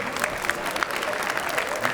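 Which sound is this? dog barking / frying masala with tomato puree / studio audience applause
studio audience applause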